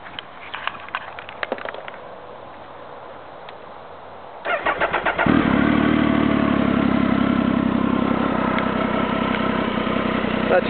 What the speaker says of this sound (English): this is my 2004 Triumph Speed Triple SE. It's got a new exhaust on it.